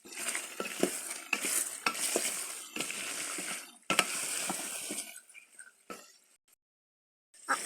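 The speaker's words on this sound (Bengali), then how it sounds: "ঢাকনা উদান করে ভালো করে ভেজে নিতে হবে" Beef is stirred and fried in an uncovered pan, giving a close sizzle with repeated scraping and clattering utensil strokes that thin out and fall nearly silent near the end before a final burst, with no talking.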